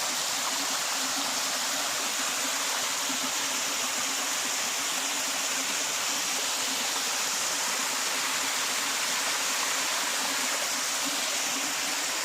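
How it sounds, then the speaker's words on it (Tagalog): A babbling stream of water runs near rice paddies on a farm, giving a steady, close rushing and gurgling wash that holds even throughout, with no voices. "Puro lagaslas ng tubig ang maririnig natin ngayon dito."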